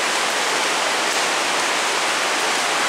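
A continuous, loud wash of heavy rain pouring down in Yamato-Takada under a heavy rain warning, even and close, with no gaps and no one speaking.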